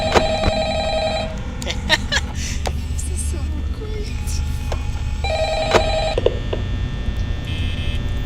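An old-style telephone rings in Five Nights at Freddy's, its repeated electronic trill bursts loud and close, breaking off and returning, while someone talks over the game sound.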